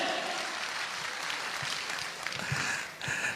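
Audience at a workshop talk in Nainital clapping, a dense patter of applause that swells briefly and tapers over a few seconds, heard fairly close.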